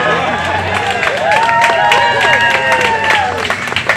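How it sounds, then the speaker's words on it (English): A crowd at a Bloomington Labor Day rally applauds loudly, with dense clapping mixed with cheers and whoops that rise and then taper over several seconds. "Oh, thank you for that applause."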